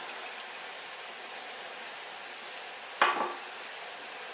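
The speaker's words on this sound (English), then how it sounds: "As the meat is starting to brown, I add the carrots." Lamb meat and carrots sizzling and browning on high heat in a hot pot, a steady loud frying hiss throughout with a brief stir or clatter near the end.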